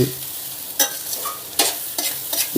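Egg fried rice tossed fast in a hot wok, with a few sharp scraping and clattering strokes over a low sizzle, close and loud, no voices.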